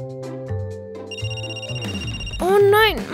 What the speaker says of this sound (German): Oh nein, mein Handy, das ist noch in der Tasche.